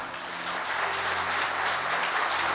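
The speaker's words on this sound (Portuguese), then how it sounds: "Aplauda o Senhor." A church congregation applauds in a full, steady roar of many hands clapping together, continuous and moderately loud for its short length, with a low hum beneath.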